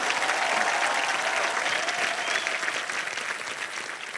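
Sustained applause from a game show studio audience, a dense wash of clapping at moderate level that holds steady throughout and tapers slightly toward the end.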